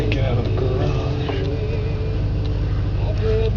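A cold car engine idles fast at a steady, continuous rumble, close and loud, with faint shuffling over it.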